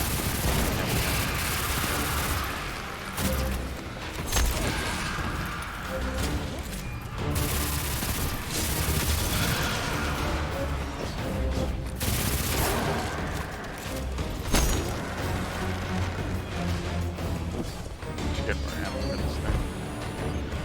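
Steady gunfire while shooting enemies in Destiny 2 Shadowkeep, rapid shots and impacts layered densely throughout, with a voice talking over the combat at times.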